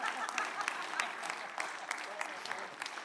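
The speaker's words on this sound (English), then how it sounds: "A warm round of applause, one more." Audience applause at a seed-sector conference session, a steady round of clapping from a crowd that holds for a few seconds without a break.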